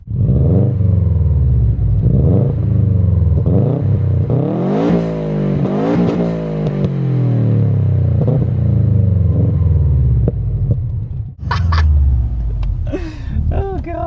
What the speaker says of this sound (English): Makes all the proper Subaru noises.